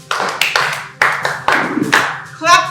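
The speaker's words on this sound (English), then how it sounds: "Clap for her." Loose, uneven clapping from a classroom of students for a classmate, several rough rhythmic bursts close by, ending in a brief voice.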